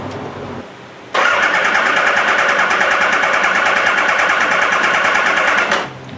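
A Suzuki GS550 motorcycle engine cranks over without catching, spark plugs out, a steady loud mechanical whirring held for about four and a half seconds before it stops, with no voice over it.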